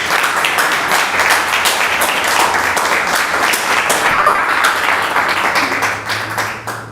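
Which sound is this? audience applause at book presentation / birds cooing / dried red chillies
audience applause at book presentation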